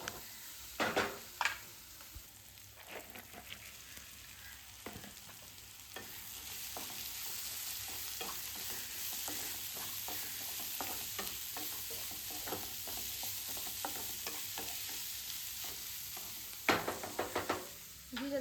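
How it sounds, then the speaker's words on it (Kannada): Onion and tomato frying in a pan for shavige upma, a steady sizzle held close throughout, broken by scraping stirs near the start and again at the end. "ಇಲ್ಲಿ ಈರುಳ್ಳಿ ಟೊಮೆಟೊ ಹಣ್ಣೆಲ್ಲ ಏನು ಫ್ರೈ ಮಾಡಿ ರೆಡಿ ಮಾಡ್ಕೊಳ್ಳೋಣ ಅಂತೇಳಿ."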